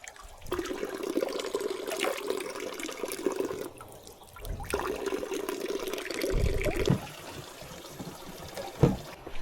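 Drinking water runs steadily from an outdoor tap in the Aosta Valley, a continuous trickling stream heard nearby, briefly dipping, then resuming with a few splashy gurgles.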